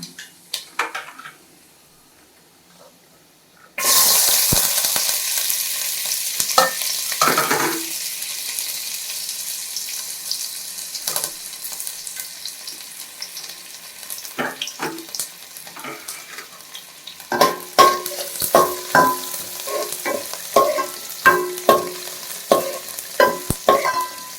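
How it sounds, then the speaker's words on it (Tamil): Mustard seeds and four broken dried red chillies hit a hot dry pan for a mutton salna and crackle and sizzle loudly after a quiet start, with stirring, scraping and sharp popping. "சட்டி காஞ்சிருச்சு. தேவையான அளவு கடுகு போட்டு வத்தல் 4 வத்தல் கிள்ளி போட்டுக்கலாம்."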